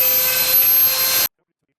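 A high-pitched rotary tool whines close and steady as it cuts away part of a plastic RC car body, then stops abruptly.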